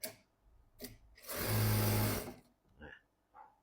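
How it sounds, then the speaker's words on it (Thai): A JACK A4C sewing machine runs at full speed through a single thin layer of chiffon, one loud steady whir lasting under a second, with someone talking before and after it. "อ่ะลองผ้าชีฟองให้ดูนะครับ ผมอัดเต็มสปีดเลยนะนะครับ เย็บผ้าชิ้นเดียวนะ บาง ๆนะครับ"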